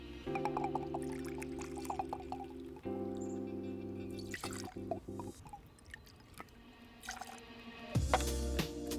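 Bourbon poured into a cocktail shaker for a whiskey sour, a close, wet trickle and drip in several short pours with brief pauses between them, heard alone without talk.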